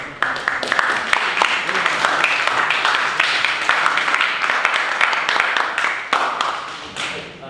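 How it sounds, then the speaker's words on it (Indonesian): Audience applause for a student group's presentation at an academic session, a sustained patter of many hands clapping for several seconds, fairly loud and even, tapering off at the end. "Sekali lagi boleh memberikan aplaus"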